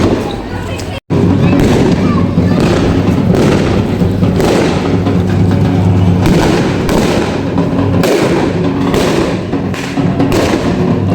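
Firecrackers burst repeatedly during a New Year celebration in a village, sharp pops and thuds scattered close and far while people talk throughout.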